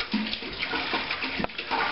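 Zinfandel and Syrah wine pouring back into a plastic barrel during blending at a home winery, a close, steady splashing gush of liquid with small sloshing surges.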